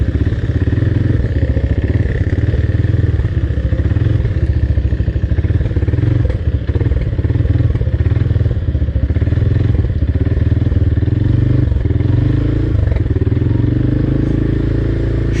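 An ATV engine runs continuously while riding through water on an off-road trail in Johor, a loud, close, throbbing motor with rattling clatter and occasional thumps and splashes, no talking.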